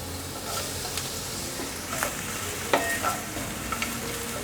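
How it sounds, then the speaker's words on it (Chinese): Carrot and sweet potato stir-frying in a wok for a vegan home-style dish, a steady bright sizzle with scattered spatula scrapes and taps against the pan, no speech. "快速翻炒，大约略炒一下，红萝卜有变色了"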